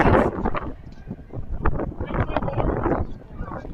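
Gusty wind buffets the microphone outdoors at a college tennis match, with uneven low rumbling bursts that swell and fade across the stretch.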